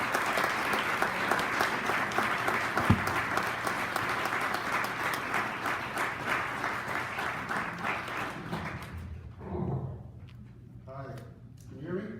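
Sustained audience applause fills a Hall of Fame ceremony hall, dense and steady for several seconds before tapering into scattered claps as a voice begins speaking near the end.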